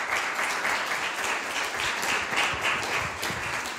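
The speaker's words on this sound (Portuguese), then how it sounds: "Salva de palmas." An audience at a Portuguese talk event on post-traumatic stress breaks into steady, sustained applause, dense clapping filling the room without pause.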